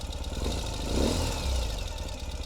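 A 2021 Ural Gear Up motorcycle engine rumbles close and loud, its throttle blipped once to a brief rise in revs before settling back to a throbbing idle.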